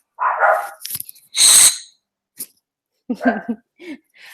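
A few short, sharp dog barks and snorts close by, separated by brief pauses, with no other sound between them.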